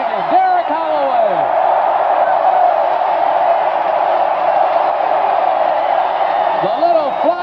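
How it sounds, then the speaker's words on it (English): Large stadium crowd at a 1984 Philadelphia Stars vs Michigan Panthers football game roars steadily after a long touchdown run, a continuous loud wash of cheering that holds for several seconds, with a commentator's voice faintly over the top. "And listen to this crowd now."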